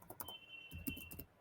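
Command typed on a computer keyboard, a quick run of close, faint clicking keystrokes in two short bursts over a thin steady electronic whine, with no talking.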